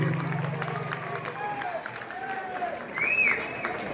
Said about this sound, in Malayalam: ഇരു ടീമിനും നിറഞ്ഞൊരു കയ്യടി നൽകി സ്വീകരിക്കും.